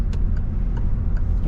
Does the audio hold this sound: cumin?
no